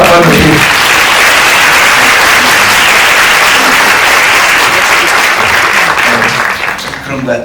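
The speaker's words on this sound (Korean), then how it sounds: "위대한 예술가 고레다 히로카즈 감독님께 박수 한번 드립니다" Loud, sustained applause from a cinema audience at a film talk event for director Kore-eda Hirokazu. Dense clapping fills the room without a break, then thins out at the very end.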